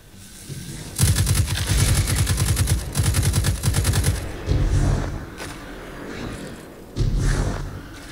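Rapid automatic gunfire in the video game Destiny, aimed at attacking moths, rattling out in long sustained bursts followed by a few shorter volleys with brief pauses between them.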